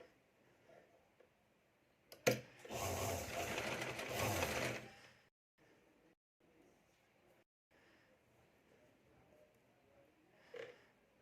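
Sewing machine stitching a seam on a blouse design, a loud dense burst of about three seconds, preceded by a click and set among faint handling noises and low-level room sound.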